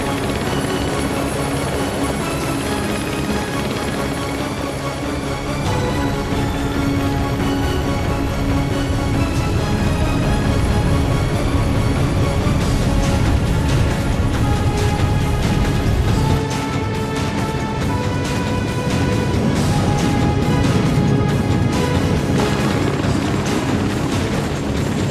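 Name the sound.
aircraft flying in the video game Ninja Gaiden Sigma 2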